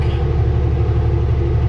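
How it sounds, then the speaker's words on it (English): A dump truck passing on a highway's climbing hill in British Columbia gives a loud, steady low rumble that holds evenly without a break, with no voices over it. "Coming by dump truck."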